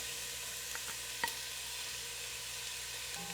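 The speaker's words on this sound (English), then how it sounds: "Just pop those in and start to fry those." Finely chopped onions fry in oil in a pan, a soft steady sizzle running throughout with a couple of faint utensil taps.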